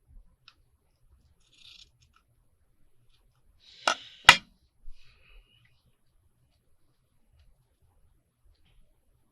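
Scissors snip twice through marked fabric in a quick, close pair of sharp cuts. Faint handling noises come before and after them, with long quiet stretches around them.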